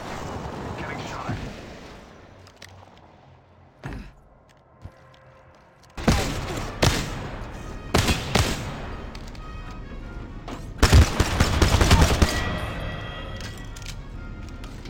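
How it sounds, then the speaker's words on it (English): Bursts of gunfire while a player takes hits in the video game Apex Legends, sharp loud volleys hitting after a quieter stretch, with a dense heavy barrage near the end over background game noise and occasional speech. "Getting shot."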